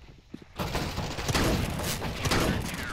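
A video game grenade goes off after a quiet lead-in, a sudden broadband blast followed by sustained loud rumbling, crackling and gunfire-like bursts that stay dense to the end.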